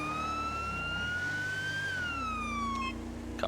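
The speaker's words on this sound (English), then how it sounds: "Got my siren though." Police car siren in the LSPDFR game, a loud wailing tone sweeping slowly up and then down, steady and alone over a low engine hum with no talk.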